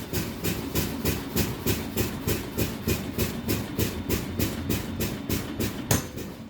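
A school bus sits idling with a steady rhythmic chugging as air pressure drains, then the emergency brake valve gives one sharp, close pop near the end.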